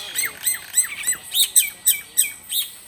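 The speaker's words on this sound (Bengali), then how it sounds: "ভেসে আসে কোকিলের ডাক আর অন্যান্য পাখির কিচিরমিচির।" Birds call in green countryside beside a tree-top restaurant and a large oxbow lake, a string of about nine sharp, rising chirps and squawks at a regular pace, fairly close and clear with no voices.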